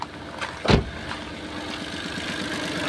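A Mitsubishi Mirage car engine with its check-engine light on idles with a steady, even rumble, broken by a brief knock near the start.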